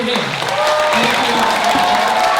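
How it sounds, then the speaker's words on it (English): An audience applauds the elders at a children's song event, dense steady clapping filling the room while a voice talks over it. "just to give them a nice ruckus round of applause for spending their time with us"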